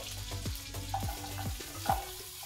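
Ginger, garlic and onion frying in butter in a pan, with a steady soft sizzle under a few low knocks and scrapes of a utensil, close and moderate in level.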